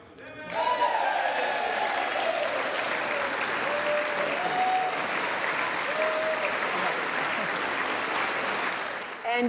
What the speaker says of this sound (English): And you hear that applause.